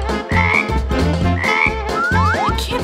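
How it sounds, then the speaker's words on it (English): A frog croaks from inside a safe during a Halloween prank skit, sounding in repeated loud, throaty bursts over a steady low backing, with rising squeaky tones near the end. "It's a frog!"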